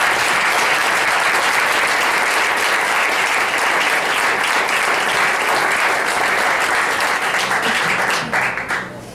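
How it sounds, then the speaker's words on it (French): Sustained audience applause for a politician at a Quebec sovereignty discussion event, dense steady clapping throughout that thins and tapers off near the end. "Mme Yvon, je pense qu'on peut l'applaudir"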